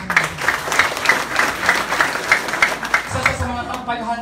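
Audience at a business seminar clapping in a steady rhythmic beat, evenly spaced claps about three per second, fairly close, with crowd noise and some voices underneath before the clapping fades near the end.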